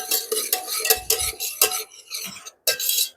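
A spoon stirs coriander powder, turmeric and salt in a pressure cooker on an induction cooker, making repeated close scraping and clinking strokes in an uneven rhythm, with no talk.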